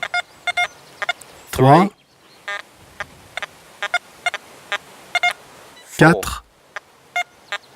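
An XP Deus metal detector fitted with a silencer gives short, repeated electronic target beeps that come and go, with two louder sweeping tones, while a voice counts numbers aloud.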